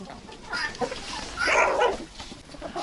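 Mixed-breed domestic meat-and-egg chickens clucking and squawking close by in a farmyard, a busy overlapping chorus with a louder burst in the middle.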